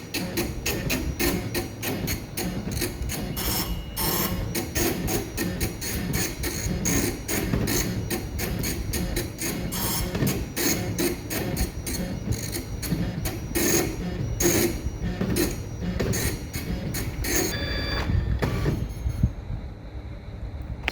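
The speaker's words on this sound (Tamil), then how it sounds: "ஸோ இப்போ வந்து பிரிண்ட் ஆகிக்கிட்டு இருக்கு" A PLQ20 printer runs a full test page, giving a steady, loud mechanical rattle and buzz with rapid rhythmic print-head strikes that continue without pause for about twenty seconds before stopping near the end.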